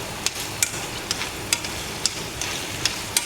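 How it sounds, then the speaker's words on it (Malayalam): Pieces of copra (dried coconut) fry in hot oil with a steady crackling sizzle, broken every half second or so by sharp clicks and scrapes of stirring. "മിൽമയിൽ ഞാൻ ആദ്യം കൊപ്പരവുത്തി പൊരിക്കുന്നു."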